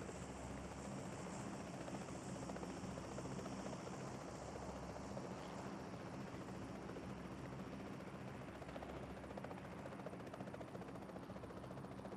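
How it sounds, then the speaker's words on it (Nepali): An aircraft in a PUBG-style battle royale payload-mode match drones steadily and continuously overhead, a constant rotor-like engine roar heard faintly throughout. "प्लेन,"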